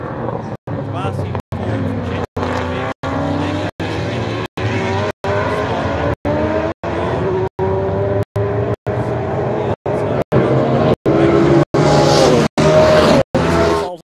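Race cars howl around the track at the NSW Motor Racing Championships, a loud continuous engine drone rising and falling under commentary, chopped by repeated dropouts, with a brief tyre screech of a brake lock-up near the end.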